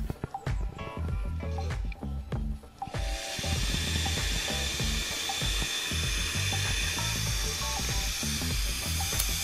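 A Bosch PFS 5000E paint spray system spraying acrylic paint: close clattering and handling noises at first, then the motor switches on into a loud, steady, hissing roar that runs without a break to the end.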